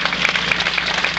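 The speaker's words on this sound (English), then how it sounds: "Let's give the Lord a hand clap for" A church congregation claps for the Lord at a pastor's installation service, a brief dense burst of many hands clapping together, loud and continuous.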